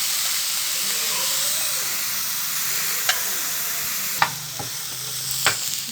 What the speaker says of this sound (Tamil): இது போட்டு நல்லா கிளறி கொடுக்கலாம் கொஞ்சம் நேரம்.